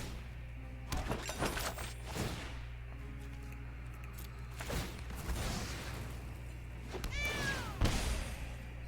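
Cat meows in a Magic card video game, several short cries spaced a few seconds apart over a low steady hum, mixed with sharp digital impact and shattering effects.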